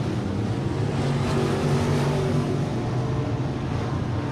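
Race cars circle a speedway at a Friday night event in Tulsa, their engines a steady, dense roar that holds at a constant loud level throughout without a break.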